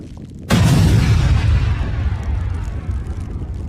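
A sudden, powerful explosion of 2,750 tons of ammonium nitrate in Beirut, set off by fireworks, booms out, followed by a long, rumbling roar that slowly fades.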